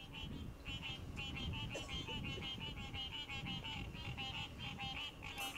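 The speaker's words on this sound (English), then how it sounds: "Did these frogs just drop the best beat of" Frogs croak in a busy, rhythmic pattern that sounds like a beat, with repeated pulsing calls running steadily throughout over a dense, low background.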